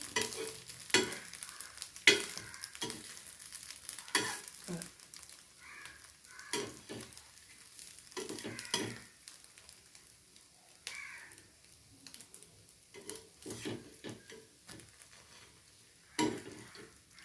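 Egg bread frying in a pan over a low flame, a quiet sizzle broken by intermittent scraping and tapping of a spatula, with a crow cawing faintly in the background.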